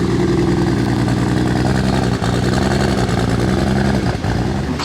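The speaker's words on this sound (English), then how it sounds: "The car's running now, it sounds sick." A 4-rotor Toyota Supra engine runs loud and close, with a dense buzzing rotary drone and a couple of brief blips in revs.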